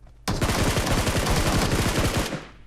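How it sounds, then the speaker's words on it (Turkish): Rapid bursts of automatic gunfire in the battle royale game PUBG Mobile, a dense continuous rattle of overlapping shots lasting about two seconds, loud and sustained before cutting off. "silah sesleri haften haften geliyor"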